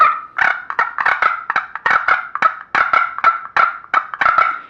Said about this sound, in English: You want to sound like two gobblers that are very aggressive with each other